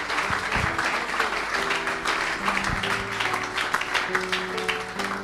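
A church congregation applauds during a Sunday service, dense clapping sustained throughout alongside scattered shouts and low sung or spoken tones.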